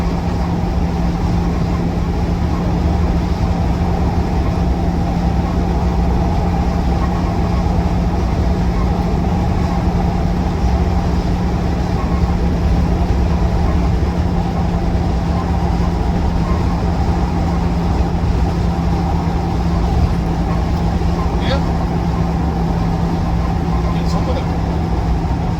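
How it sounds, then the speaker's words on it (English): Steady road and tyre roar from a Land Rover Defender 90 TD5 on slightly aggressive tyres, a constant loud drone with a low hum throughout, with someone talking over it. "It's got slightly aggressive tyres on it, so you will get some tyre noise."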